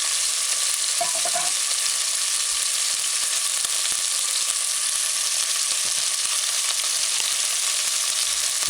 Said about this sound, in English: I just allow them to fry and brown a little on that side.